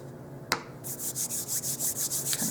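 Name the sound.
rubbing cornstarch over hands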